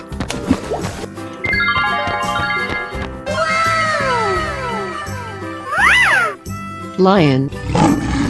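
A lion roars in a 3D animal sliding video game, a loud cartoonish roar mixed with bright jingling game music and excited voices talking over it.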